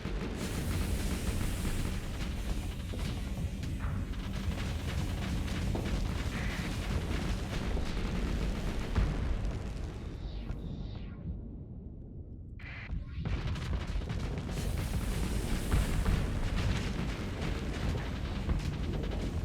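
Sabo missiles strike a Heron's weak shields in a space battle video game, with a dense, continuous roar of explosions and booming impacts that briefly drops out before surging back, loud throughout.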